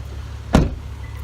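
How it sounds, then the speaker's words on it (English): The power sliding door of a 2017 Toyota Sienna Limited minivan releases and begins opening, one short clunk rising briefly over a steady low background hum. "Open the power sliding door just by a touch of the handle."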